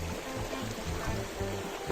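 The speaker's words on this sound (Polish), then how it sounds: "Dzisiaj nurt taki troszeczkę większy jak był ostatnio." A river current flows steadily during magnet fishing, a faint continuous watery rush with low gurgling and no voices.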